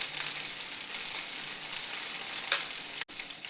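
Onions and curry leaves sauté in a pan for tomato kadaiyal, a steady close, loud sizzle running throughout with faint stirring scrapes and a brief cutoff near the end.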